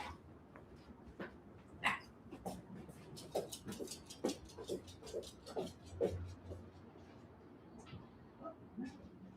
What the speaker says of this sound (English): You were just barking at someone.